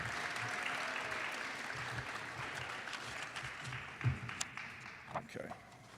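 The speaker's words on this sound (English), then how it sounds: "Give them a round of applause." Audience applause for a girls' varsity team at a school winter athletic awards ceremony, steady moderate clapping in a hall with a few louder individual claps near the end as it starts to fade.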